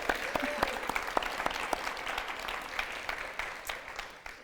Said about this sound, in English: Sorry to make you clap again.